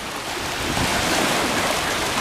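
Waves from passing cruise ships and other vessels wash onto a Tampa dog beach as a steady, close rush of surf with some wind. The sound swells slightly and holds.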